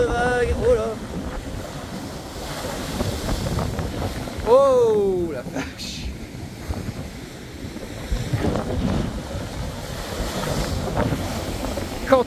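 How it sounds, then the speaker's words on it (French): Large storm swell and gusting wind at Cap Couronne, Martigues, during Storm Jana: a continuous broadband roar of surf and wind buffeting the microphone, with brief voice sounds over it. "Oh la taille des vagues qui arrivent."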